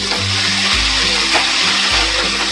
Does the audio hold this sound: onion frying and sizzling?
yes